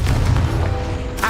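A Confringo spell explosion in Hogwarts Legacy, one deep, loud booming blast that fills the whole clip with a low rumble and fades out near the end.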